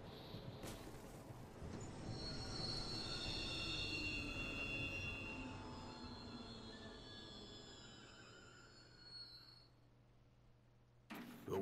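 Train wheels squeal as the train brakes to a stop in Final Fantasy XV, a long high screech over rumbling carriage noise that fades toward the end, with a brief clunk afterward.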